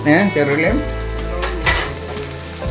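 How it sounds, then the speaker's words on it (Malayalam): Shallots hiss and sizzle loudly in hot oil after roasted coconut as they are stirred, with a steady crackling fry throughout. "ഇത് അടുത്തതായിട്ട് ചെറുള്ളി ഇട്ട് കേട്ടോ. തേങ്ങ വറുത്തതിന് ശേഷം"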